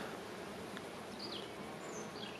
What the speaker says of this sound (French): Des abeilles qui rentrent, qui sortent.